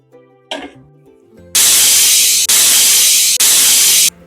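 A loud, harsh pressure cooker steam hiss blasts in three long bursts with brief breaks between, after a short clatter and quiet hum.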